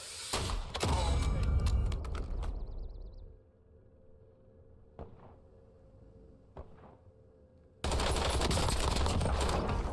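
Gunfire in Call of Duty Warzone: a dense, loud burst of rapid automatic shots up front, then quieter sparse distant shots and mechanical clicks, before another loud wash of noise returns at the end, without talking.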